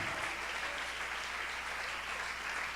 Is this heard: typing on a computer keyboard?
no